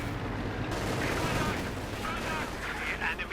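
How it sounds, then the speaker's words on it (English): Machine gun fire from a Panther tank in Company of Heroes 2, a dense rattling burst of gunfire and battle noise that plays under a commentator's talk. "the Panther machine guns tearing into them"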